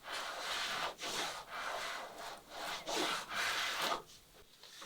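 A hand plane makes repeated rasping strokes along a wooden garboard plank while bevelling it. About five close, steady shaving passes follow one another in a regular rhythm, each separated by a short pause.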